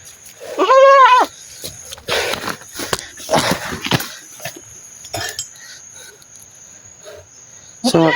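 A goat bleats loudly in a wavering, quavering call near the start, followed by scattered rustling and brief voices, with another bleat at the end.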